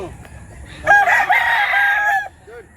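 A rooster at a Mantalungon, Barili, Cebu farm gives one loud, close crow of about a second and a half, rising sharply and then holding before it cuts off. Faint clucks can be heard before and after.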